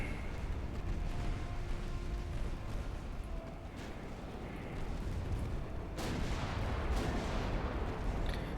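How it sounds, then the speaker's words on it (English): Main guns of warships thunder in the Ultimate Admiral Dreadnoughts naval game, a continuous rumbling barrage with a heavier burst of booms near the end. "we'll have the main guns fire at you, secondaries at the other"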